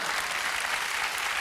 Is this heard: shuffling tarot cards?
no